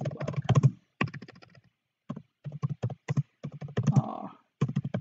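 Fingers type on a computer keyboard in quick bursts of close, crisp clicks, separated by short pauses, with no talking.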